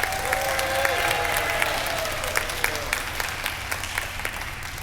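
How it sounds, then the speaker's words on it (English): An audience applauds graduating youth council members at the Savannah Civic Center, with sustained, dense clapping and faint cheering throughout. "Let's give them a big round of applause for that."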